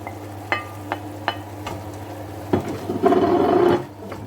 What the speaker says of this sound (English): Okay, so now back goes the onions. Into the pot there.